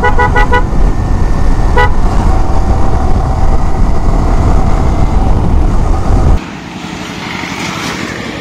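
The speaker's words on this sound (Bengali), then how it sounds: "এই রাস্তাতে প্রচুর পরিমাণে সিএনজি চলে।" Busy road traffic on the Rangunia–Chittagong road, where CNG auto-rickshaws honk repeatedly in quick bursts early on over a loud, steady engine and road roar that drops to a quieter hum near the end.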